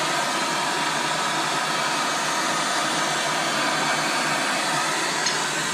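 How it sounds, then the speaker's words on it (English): Blow lamp flame heating a king pin on a Fordson Major E1A tractor, a steady, unbroken roaring hiss held close and fairly loud throughout. "Blow lamp nicely wedged in exactly the right place."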